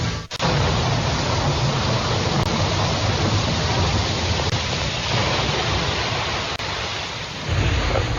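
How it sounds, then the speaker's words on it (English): Heavy rain and thunder from a storm at Boulder Creek, a steady, loud, broadband downpour roaring continuously throughout, with no voices. "It is raining really good here."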